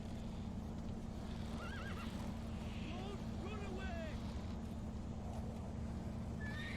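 Roach, Geralt's horse in The Witcher 3, gives several shrill whinnies over a steady low in-game drone, with faint hoof clip-clops and a voice talking underneath.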